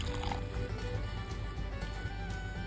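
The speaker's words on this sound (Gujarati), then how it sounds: "મેં અહીંયા એક કપ છે એ પાણી લીધું છે એ થોડું થોડું આપણે એડ કરતા જઈશું" Water is poured little by little into corn dhokla batter, giving soft, faint liquid trickles and splashes at close range against a low background hum.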